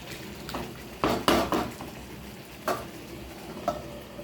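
Potatoes and chicken stirred in a cooking pot, then covered: a few sharp scrapes and clanks of a spoon against the pot over a low steady sizzle, with clustered knocks early and isolated ones later.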